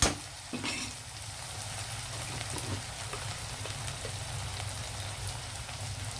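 Mutton with tender tamarind leaves fries in a pan with a steady, moderately loud sizzle and a few stirring clatters, continuous and close, as salt and chili powder go in.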